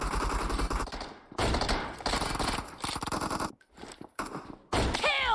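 Automatic gunfire in the PUBG Mobile battle royale game, loud bursts of rapid shots rattling in several clusters with brief gaps between them, ending with a sharp whizzing sweep.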